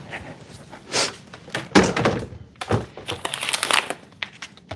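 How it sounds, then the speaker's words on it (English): Kitchen cabinet doors bang and thunk several times across a home kitchen, irregular sharp knocks with clattering in between, heard from a short distance. "you can hear me banging the cabinet over there"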